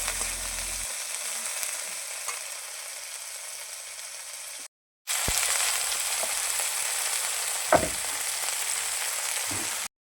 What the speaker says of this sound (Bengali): ঠাকুমা তেল আর পেঁয়াজ পাতাগুলো ভাজতে দিয়ে দিয়েছে